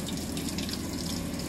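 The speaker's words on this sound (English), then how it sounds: "So hopefully my little pump will pump the water up there. It'll start going into all these tanks." Water driven by a small pump into a row of fish breeding tanks, a steady close splashing rush of running water that keeps going without a break.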